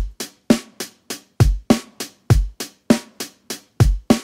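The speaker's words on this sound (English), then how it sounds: "I just have a really, really simple beat here." A simple drum beat repeating steadily, low kick thumps alternating with sharper snare hits and hi-hat ticks, dry and close with no other sounds.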